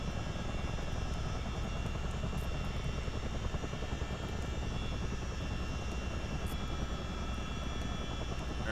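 CH-47 Chinook helicopter engines run during shutdown, a loud, constant turbine whine and rotor drone holding steady the whole time with no break.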